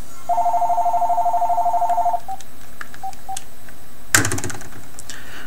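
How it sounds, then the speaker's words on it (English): A telephone rings with a rapid electronic warble lasting about two seconds, followed by a few short beeps, then a sharp knock and some rustling; no one speaks over it. "Somebody wants to talk to me on the phone."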